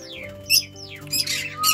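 Caged pet birds squawk and chirp up close in a home, giving several harsh, sweeping calls in quick succession against a low steady hum.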